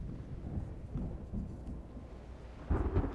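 Thunder from an approaching storm in the video game Reverse: 1999 rumbles low and steady, with a heavier, louder roll swelling near the end.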